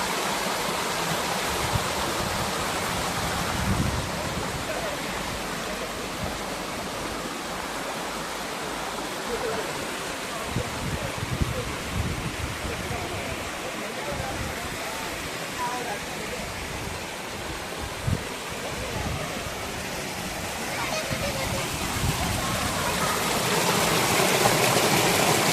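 A waterfall at the Daryayi Mata temple in a valley gives a steady, loud broadband rush of falling water that continues unbroken throughout, with faint low rumbles underneath.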